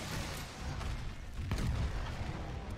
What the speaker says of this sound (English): I used my explosions to stagger him a lot of the time,